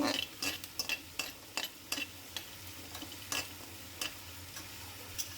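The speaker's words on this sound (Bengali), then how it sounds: "এদিকে আমি কাঁঠালের বিচিগুলো ভেজে নিচ্ছি" Jackfruit seeds fry in a pan while being stirred, a faint sizzle broken by regular light scraping and clicking strokes of a spatula, close and quiet with no talk.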